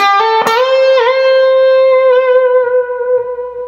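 Distorted electric guitar lick from a song's first solo: a picked attack, then a long sustained, slightly bent note ringing out loud and alone with reverb.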